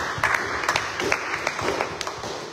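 A church congregation applauds during a Sunday service, a steady wash of many hands clapping at moderate distance with no break across the stretch.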